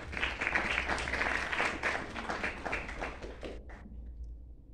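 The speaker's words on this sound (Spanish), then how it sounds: "a quien pido también un fuerte aplauso" Conference audience applauding: a dense burst of many hands clapping, strong at first and thinning out, then trailing off into quiet near the end.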